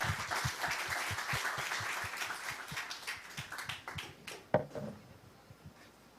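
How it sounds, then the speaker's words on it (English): Audience applause at a science camp opening, a moderate spread of claps from a crowd that thins out and tapers to a few last claps and silence. "give him a big round of applause."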